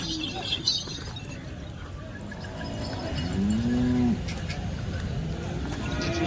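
A bull lets out a long low moo partway through, close and loud over a noisy outdoor background with some livestock bustle, at the Chalisgaon bull market.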